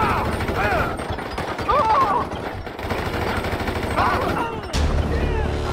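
Rapid bursts of machine-gun fire in modded GTA 5, loud and close, rattling repeatedly while voices talk over the shooting.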